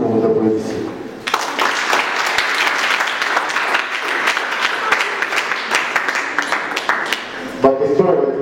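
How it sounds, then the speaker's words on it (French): An audience at a youth orientation day breaks into loud, sustained applause that lasts several seconds, with a voice heard near the start and again at the end. "et je voudrais aussi que vous applaudissiez"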